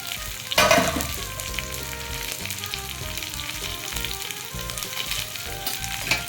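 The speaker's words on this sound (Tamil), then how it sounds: "இப்போ வந்து அவரைக்காவை சேர்த்துக்கலாம்" Broad beans go into a hot pan for a South Indian poriyal, with a sharp burst of sizzling as they land, followed by a steady crackling fry and light stirring, close and without talk.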